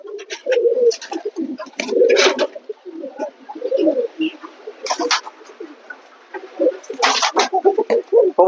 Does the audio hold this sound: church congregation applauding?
no